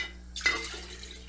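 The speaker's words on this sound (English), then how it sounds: "I am adding a quart of water." Water being poured into a pot of chicken and turkey stock begins with a short splash of liquid, then continues as a soft, steady stream close by in a quiet kitchen.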